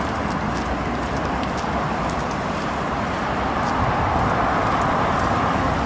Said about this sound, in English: as you can hear from all the cars.